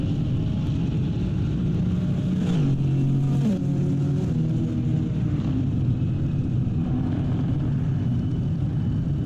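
GT3 race cars, including a BMW M4 GT3 and a Lamborghini, come in at the finish at Sonoma Raceway. Engines drone steadily and loudly with rising and falling revs as cars pass, and there is no talking.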